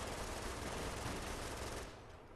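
A machine gun in the Company of Heroes video game fires a dense, continuous burst at a Humvee, harsh and steady, then tapers slightly at the end.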